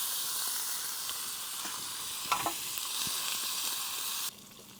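Sweet and spicy shrimp sizzle in a pan over a camp stove outdoors, a steady, close hiss broken by a few brief stirring clatters before the sound drops away abruptly.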